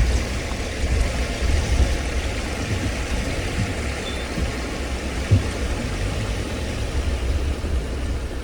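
A Suzuki Jimny engine runs as a gear is engaged on a narrow single-lane mountain road toward Gilgit-Baltistan, giving a steady low rumble with a slight bump midway and no talking.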